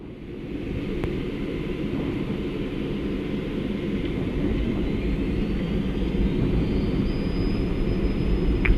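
Twin jet engines of a Citation CJ1+ spool up for takeoff, a continuous cockpit roar that builds gradually while a high-pitched whine rises and holds near the end.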